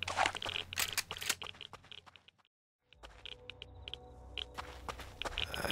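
Footsteps in the survival game Rust, a run of crunchy, uneven steps with rustling that breaks off into a brief silence before resuming at a similar moderate level.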